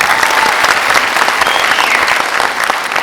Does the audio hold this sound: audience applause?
yes